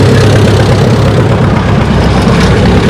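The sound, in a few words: tractor engine during tractor pull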